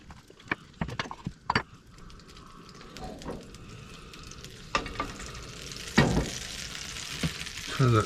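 Baby potatoes going into a pan of olive oil and melting butter, with scattered clicks and clatters as pieces are placed, under a low sizzle that swells and crackles louder toward the end.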